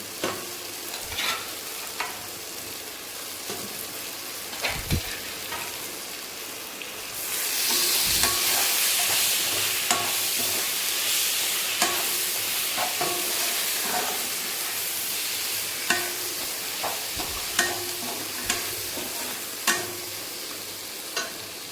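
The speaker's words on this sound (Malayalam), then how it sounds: "അതിലേക്ക് നമ്മുടെ ചിക്കൻ നമ്മൾ ചിക്കൻ ലിവർ ഉണ്ടല്ലോ അത് പിന്നെ നന്നായിട്ട് വേവിച്ച് വെച്ചിരിക്കണം അത് നമ്മൾ ഇതിനൊന്ന് ഇട്ട് കൊടുക്കണം" Chicken liver fries in a pan of masala for a liver roast, a steady broadband sizzle that swells louder partway through, with regular scraping clicks of a spatula stirring it, close and with no talk.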